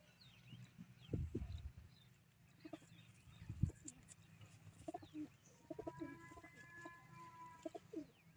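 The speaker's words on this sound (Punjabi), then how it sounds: "ਬੁਲੰਦੀ ਚ ਉੱਡਣ ਵਾਲਾ ਕਬੂਤਰ ਲੱਗਦਾ ਮੈਨੂੰ ਇਹ" Pigeons coo from close by, with a few low rumbling coos, soft wing flutters and scattered chirps from other birds. The setting is quiet and outdoors, and no one talks.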